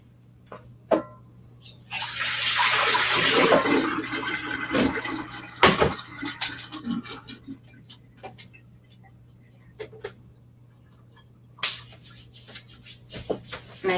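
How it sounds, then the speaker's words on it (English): Water poured out of a container while making calendula oil balm with beeswax, a steady splashing pour of about three seconds followed by scattered small clinks and handling knocks, with a faint voice in the background. "I need to pour some water out."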